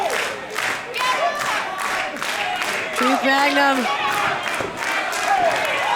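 A wrestling crowd at a live show cheering and chanting in steady rhythmic waves, loud and continuous, with an announcer talking over it.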